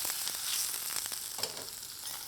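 Paneer pieces frying lightly in a little oil in a pan make a soft, steady sizzle with small crackles and a few gentle scrapes as the pan moves; no one speaks.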